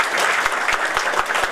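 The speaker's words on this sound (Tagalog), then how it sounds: "Palakpak po natin." Short burst of audience applause at an event as a top-ranked honoree is acknowledged, many hands clapping in a dense, even patter at moderate volume.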